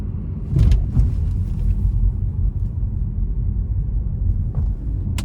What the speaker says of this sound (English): give it a bit of throttle getting on the interstate here